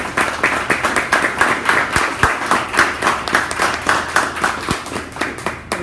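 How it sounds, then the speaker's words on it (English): An audience applauds a speaker after a Toastmasters-style icebreaker speech, with steady, dense clapping throughout and a few sharper individual claps standing out, moderately loud with no talking. "Everybody, clap for Robert Summers"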